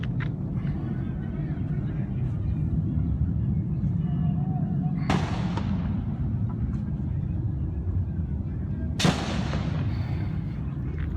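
Gunfire rings out in an outdoor firefight, with two sharp, loud shots several seconds apart over constant background rumble and noise, while people talk tensely throughout.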